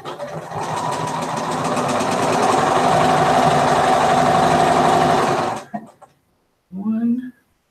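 A sewing machine stitches quilt seams in a fast, steady mechanical chatter for several seconds, loud and close, then stops; a voice speaks briefly afterward.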